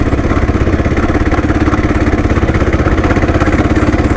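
A Kawasaki KLR motorcycle engine running while riding on an icy road, a loud, close, steady single-cylinder thrum with rapid even pulses and a little clatter, no voices.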